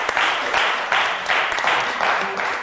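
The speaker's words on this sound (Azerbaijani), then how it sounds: "Alqışlayaq Ağaxan Abdullayevın." A studio audience on an Azerbaijani TV show applauds in rhythmic, evenly spaced bursts of clapping, loud and close, lasting a few seconds.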